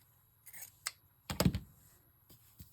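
Scissors snip lace scraps for craft embellishments, a few short close cuts with quiet clicks, the loudest snip near the middle and a faint final one at the end.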